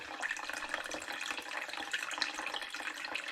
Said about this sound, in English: So in each of my demijohns, I'm going to pour through a funnel with a filter in